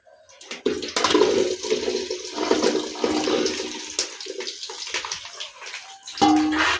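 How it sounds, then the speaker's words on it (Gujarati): Okra dropped into hot oil in a pan for a Gujarati bhinda nu shaak, setting off a loud, steady hissing sizzle that swells and fades before a brief clatter near the end. "હવે એની અંદર નાખી દઈશું આપણે ભીંડો।"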